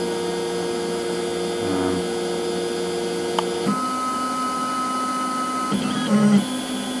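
Ring-cutting machine steadily machining a dragon ring, a constant tonal whine and hum with shifting pitch and small clicks near the end, close and unbroken with no talking.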